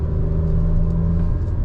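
2021 MG Astor turbo engine pulling in third gear, a steady loud low rumble with a constant engine hum, heard close from inside the cabin with no talk.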